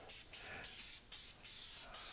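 Spray-on Black Tire Shine from Griot's applied to a car tire, heard as a series of close, hissing trigger sprays: a short burst, then several longer pulls with brief gaps, quiet and with no talking.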